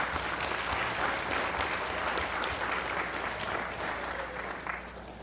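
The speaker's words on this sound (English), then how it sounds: "We can give her a round of applause" An audience at a city council meeting in Schertz gives a round of applause, dense and steady clapping from many people that holds evenly and tapers slightly at the end.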